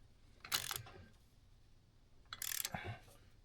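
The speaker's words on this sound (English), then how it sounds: "So I got the old torque wrench set to 60." A torque wrench set to 60 foot-pounds tightens an engine bolt on a 1999 Polaris XCR800 snowmobile engine build, giving two short, quiet bursts of ratcheting clicks separated by a pause.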